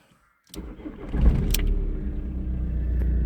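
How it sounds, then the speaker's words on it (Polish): A Seat Leon 1.9 TDI diesel cranks and catches after a short silence, then settles into a steady, close rumbling idle with a slight rise in revs. "Silnik powinien dać się uruchomić."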